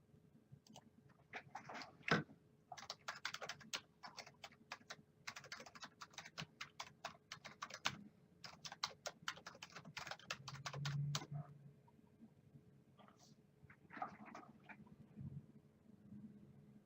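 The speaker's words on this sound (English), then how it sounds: "The typing, Michelle, it's coming through on my computer." Bursts of rapid keyboard typing, close and clicky, with pauses between runs and a few scattered keystrokes near the end.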